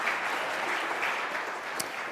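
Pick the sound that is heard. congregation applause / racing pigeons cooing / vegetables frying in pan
congregation applause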